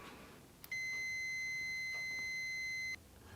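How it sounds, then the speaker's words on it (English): A multimeter set to continuity gives one steady electronic beep, about two seconds long, when its two probes touch. A faint click comes just before it, in a quiet room. "I'll switch the multimeter to the continuity check function and test it to make sure that it works by touching the two probes together."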